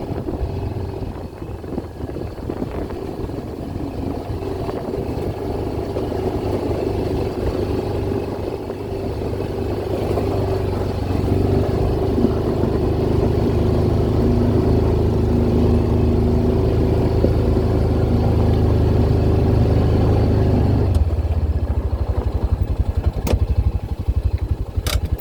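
Car engine drones steadily while driving on a road near a mine, with wind buffeting the microphone; the hum grows louder and deeper near the end.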